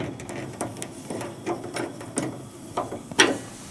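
Knob on a propane space heater being pushed and turned, giving a run of quick clicks and ratcheting ticks at close range that ends in a louder snap, with no voice.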